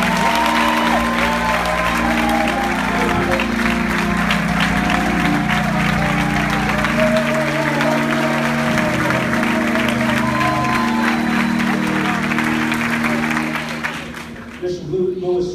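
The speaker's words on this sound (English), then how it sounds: "I want you to give him a warm round of applause" An audience applauds a guest bishop during a church inaugural address, steady dense clapping over loud organ or keyboard music for most of the stretch, fading out near the end.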